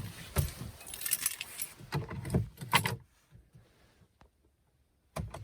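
Car key for a Volvo XC60 jangles on its ring and slides into the ignition, a cluster of close metallic rattles and clicks over the first three seconds, then near silence and a final short jingle.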